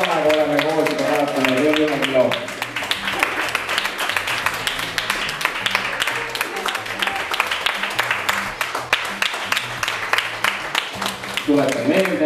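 Studio audience applauding steadily at a live Estonian television show, dense continuous clapping across the whole stretch with a host's voice briefly heard at the start and end.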